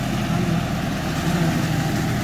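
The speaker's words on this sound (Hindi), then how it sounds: "फिर लग गए ट्रैक्टर चलाने" A tractor engine runs on a rice farm, a loud, steady low rumble idling at close range with a constant mechanical drone and no voices over it.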